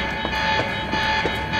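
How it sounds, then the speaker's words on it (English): Lockdown alarm in the Quantum Break video game, a steady, loud electronic tone sustained throughout with faint rhythmic pulses underneath, no voices. "The alarm must have locked everything down."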